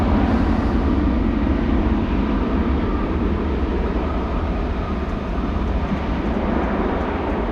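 A Transavia airliner departs Amsterdam Schiphol on a windy day, its engines producing a loud, steady roar that holds at the same level throughout, with no talk over it.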